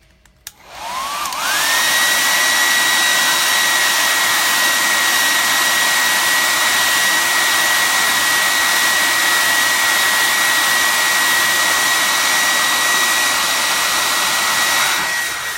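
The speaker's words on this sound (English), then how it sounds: "let's just dry this very quickly." A hair dryer blows on a freshly applied chalk transfer, starting up after a brief pause and then running as a loud, steady, close-up whoosh with a high whine that holds for about fourteen seconds before cutting off.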